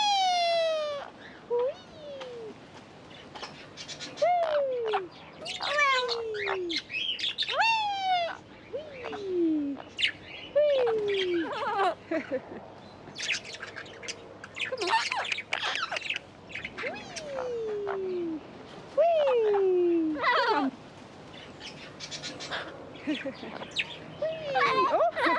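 Circus parrots squawk and chirp repeatedly over about twenty-five seconds, with loud downward-sliding calls mixed with shorter chirps and chatter, close and lively.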